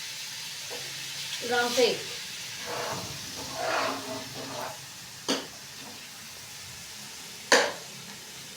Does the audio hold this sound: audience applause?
no